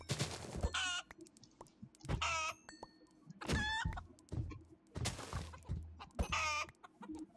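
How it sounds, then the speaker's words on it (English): Chickens cluck in a video game, with about five short bursts of squawking calls spaced a second or two apart, quiet over a faint background hum. "Maybe I can kill some of these chickens"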